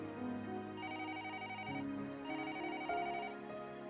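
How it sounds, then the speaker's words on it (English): A home telephone's electronic ringtone plays a repeating melodic pattern upstairs, somewhat muffled and moderately loud, with no voices present. "The home phone's ringing upstairs."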